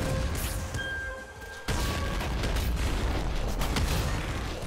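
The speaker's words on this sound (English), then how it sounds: "The explosions are coming in." Loud, dense booms and crashing blasts roll in from the game Nuclear Throne, with a sharp burst partway through and a steady rumble underneath.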